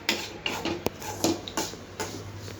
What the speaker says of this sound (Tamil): இந்த மாதிரி நல்லா வதக்கி விட்டுக்கோங்க